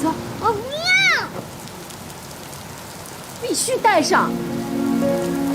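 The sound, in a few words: heavy rain falling outside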